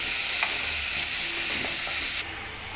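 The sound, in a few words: tomato and chili paste spluttering in hot pan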